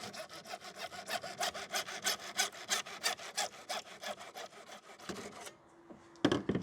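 Hand saw cutting through wood held in a miter box, a steady rapid run of back-and-forth strokes, close and loud, ending in a brief pause and a couple of knocks as the cut finishes.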